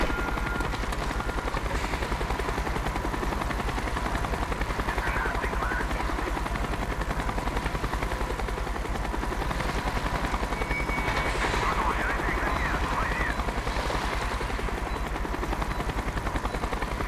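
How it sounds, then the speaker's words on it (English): A helicopter in the Call of Duty Black Ops video game hovers overhead with a continuous thudding rotor drone, loud and steady throughout, with faint distant gunfire beneath it. "Avoid the helicopter spotlight."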